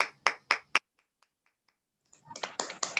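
Hands clap at a network marketing gathering in tribute to parents: four sharp claps in quick succession, a brief near-silent pause, then a fresh burst of several closer-spaced claps.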